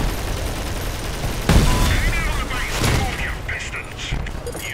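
Artillery fire in the vehicle combat game Crossout, a sharp booming launch burst followed by further rumbling shots and mechanical noise, fairly loud, with voices talking over it.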